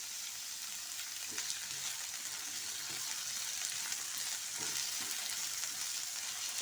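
Curry leaves fry in hot oil for a sweet pumpkin skin chutney, giving a constant close sizzle with faint stirring scrapes at intervals and no voices.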